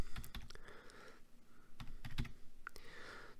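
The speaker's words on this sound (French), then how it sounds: "J'écris mon corps du texte." Someone types body text into a Microsoft Word document on a computer keyboard, producing close, clattering keystrokes in uneven bursts with brief pauses between them.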